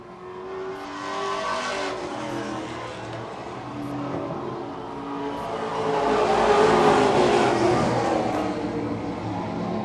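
Late model stock cars run bumper to bumper in single file around an oval track near the end of a heat race, a steady loud engine roar swelling as the pack passes close, with faint tire noise and no talk.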